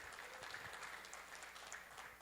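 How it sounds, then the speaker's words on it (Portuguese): A church congregation applauds at a graduation for a married couples' course, a soft, steady wash of clapping heard from a distance, faint and even. "Aplauda o Senhor pela vida deles."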